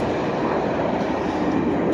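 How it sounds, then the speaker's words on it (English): A passing train gives a steady, loud broadband rumble and roar that holds evenly throughout, with no voices. "that's a train."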